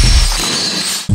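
Glass jars smashing on an angry-mom rage day, a loud crash with shattering debris that fades through the middle, then a second sharp impact near the end.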